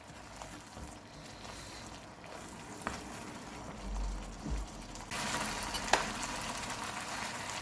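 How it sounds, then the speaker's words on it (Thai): Thai curry paste is stir-fried in a pan for a spicy quail dish, a steady moderate sizzle with scraping spatula strokes and brief clinks that grows louder partway through. "ผัดให้เครื่องแกงหอมก่อนค่ะ"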